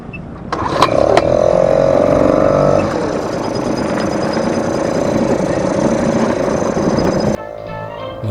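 An outboard boat motor on a small boat runs loud and close after a restart at a lake on the Fourth of July. It holds a steady, rough drone from start to finish, dropping slightly in level near the end.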